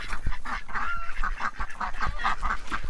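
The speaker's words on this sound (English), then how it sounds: "The ducks don't really like the chickens, and the chickens really don't like the ducks." Ducks kept in a backyard pen near chickens quack and honk in a loud, busy series of repeated calls, close by with no talk.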